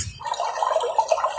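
Trickling, bubbling water alarm tone from a Kstar ANJANK AC003 dual alarm clock, starting after a brief pause and running steadily at moderate level with irregular watery blips, no talk.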